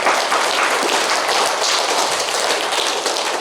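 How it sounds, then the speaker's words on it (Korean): A church congregation at Houston Young Nak Presbyterian Church applauds together, a dense, steady wash of many hands clapping that stays loud and even throughout, with no voices over it. "우리 다 같이 한번 우리 박수로 우리 서로 축복할까요?"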